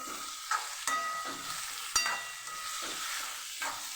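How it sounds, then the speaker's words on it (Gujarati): Alkuno sambharo, a Kathiyavadi vegetable stir-fry, sizzling in a pan while a spoon stirs it, with several sharp scraping clinks against the metal over a steady soft frying hiss; fairly quiet and close, no talking. "એક મિનિટ પછી આપણે ખોલીને આપણે હલાવી લઈશું"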